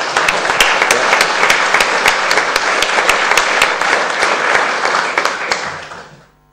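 Loud, close audience applause at an avalanche-area accident prevention conference, many hands clapping in a dense continuous roar with sharp individual claps standing out, holding steady for several seconds before fading out quickly.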